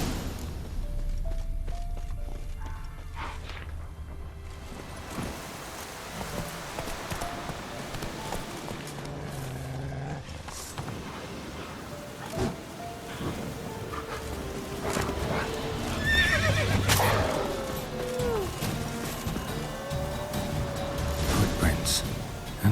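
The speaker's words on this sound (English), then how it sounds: "That's his horse." Horse hooves clip-clop on the ground in The Witcher 3 video game, a steady walking rhythm under game dialogue, with a few brief tonal calls later on.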